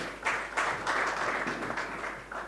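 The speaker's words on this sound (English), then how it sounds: "Big round of applause for them as well." A crowd at a sommelier competition broadcast applauds, a dense, steady patter of many hands clapping with no voices over it.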